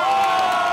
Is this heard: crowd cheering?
yes